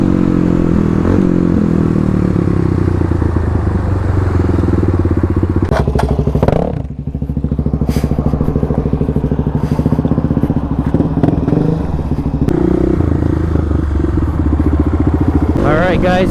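Several motorcycles idle and rumble together at a hooligan rider meet, a loud, steady, close engine drone with occasional revs, clatters and thumps as the bikes move.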